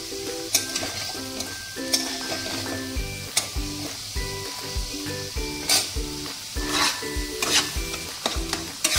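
Banana flower ghonto being stir-fried in a pan, with a steady sizzle under rhythmic metal scraping and clinking stirs, loud and close throughout.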